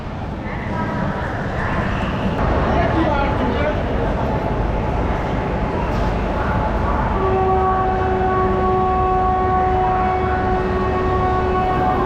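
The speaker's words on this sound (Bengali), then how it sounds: "এই হচ্ছে তাম্রলিপ্ত এক্সপ্রেস" The Tamralipta Express, train 12857, stands at a busy station, with a constant rumbling crowd and rail bustle, a horn-like tone sounding late on, and people talking throughout.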